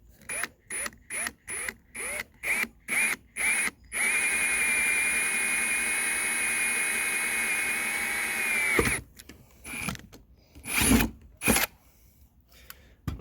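A power drill bores through a wooden deck between the planks for a cable railing: short stuttering bursts first, then one long sustained grinding run, then more brief bursts as it finishes, close and alone.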